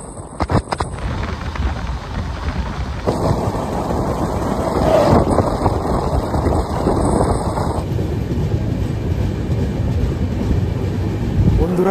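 The 12101 Jnaneswari Express rolls into Gondia railway station, a dense, continuous rumble of wheels and carriage noise heard from inside the train, loud and steady throughout.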